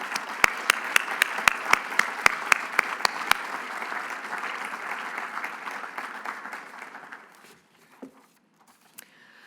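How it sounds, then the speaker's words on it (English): Applause for newly inducted engineers at an awards event, a dense round of clapping with a few sharp nearby claps that gradually thins and dies away into a quiet room. "Please join me in a round of applause to all of the newly inducted Class of 2024 Academy of Distinguished Engineers"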